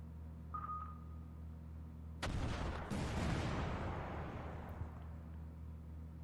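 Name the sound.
missiles launching in Command: Modern Operations video game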